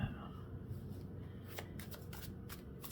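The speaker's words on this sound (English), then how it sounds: "And I feel the need to cut and then shuffle again." Tarot cards are shuffled by hand up close, a run of crisp riffling flutters and snaps after a moment of quiet handling, with no talk over it.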